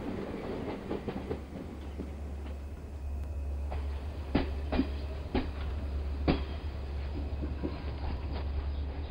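Railroad cars roll along the tracks in a railyard with a steady low rumble, scattered metallic clicks and clanks from the wheels, and a faint hiss, heard fairly close.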